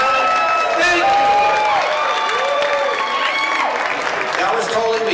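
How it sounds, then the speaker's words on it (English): A large indoor crowd at an annual celebration and graduation gives a sustained, loud round of applause with cheering and whoops, filling the room continuously. "I want everybody to give the most rousing round of applause you've ever given for all the sponsors, donators, and promoters for this evening"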